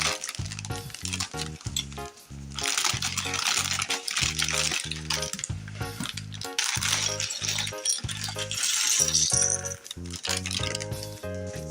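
LEGO pieces from a Hulk versus Rhino truck set being dumped and sifted, a dense run of small plastic clatters and rattles for about ten seconds with brief pauses, close and fairly loud.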